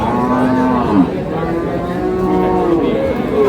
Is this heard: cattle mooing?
yes